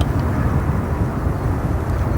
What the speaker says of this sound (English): That is Cathay Pacific Cargo, a 747-8 freighter.